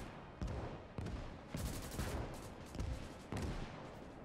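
Gunfire in the World War II video game Gates of Hell: Ostfront, loud repeated bursts of shots and explosions at irregular intervals, with no talk over them.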